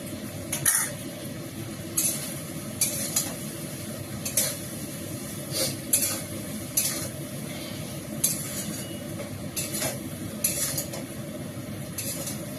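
Ground cashew, peanut and white sesame paste being stirred into eggplant masala frying in a pan, with a steady low sizzle and sharp, intermittent spoon scrapes and clinks against the pan every second or so.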